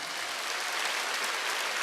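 A church congregation at a Wednesday worship service claps together in a dense, steady wash of applause that holds at an even level throughout, with no speech over it.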